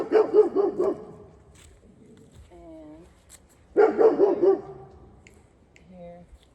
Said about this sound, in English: And of course the dogs have to bark always.